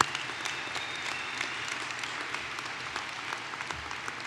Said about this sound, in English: I think giving them a round of applause is absolutely appropriate.